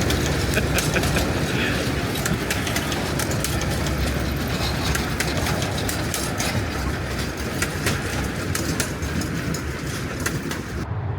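Miniature park train ride at Travel Town in Griffith Park, Los Angeles, rumbling and clattering steadily over the track with a continuous broadband roar, close and unbroken for the whole stretch.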